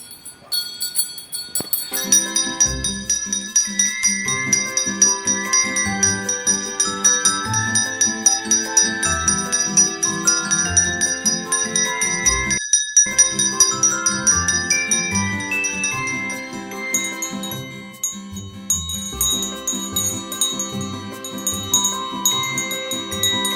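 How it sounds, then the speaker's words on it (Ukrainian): A school bell melody rings out at a first day of school ceremony, a bright chiming tune that plays continuously for over twenty seconds, loud and close, with a brief break midway. "Ось і пролунала у новому навчальному році чарівна мелодія дзвоника"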